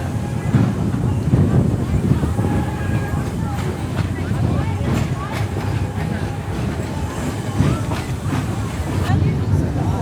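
An Oregon Scenic Coast Railroad train runs steadily along the coast, a continuous low rumble and rattle of cars throughout, with people talking over it.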